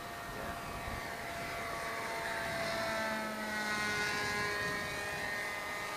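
An RC AeroSport 103 ultralight model plane flies at half throttle, producing a thin, steady high motor whine whose pitch drifts slightly as it passes at some distance outdoors, faint and without talk.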